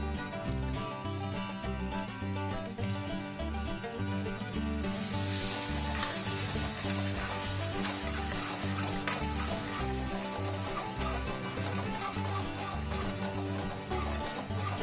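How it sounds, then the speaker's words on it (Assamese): Food sizzles steadily in a hot pan as yogurt is added and stirred in, a continuous close crackling fry with a brighter hiss partway through; no one talks. "যিহেতু ধুনীয়াকৈ ভজা হৈ গৈছে আৰু মই তাত এতিয়া অলপ দৈ ব্যৱহাৰ কৰিছোঁ।"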